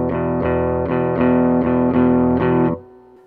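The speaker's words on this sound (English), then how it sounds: "So without touching the strings, it's going to sound like this." An electric guitar plays a beginner blues rhythm with no palm muting. Distorted, open strings strum a repeated pattern of about six even chord hits that ring fully, then the last one is cut off. No one talks.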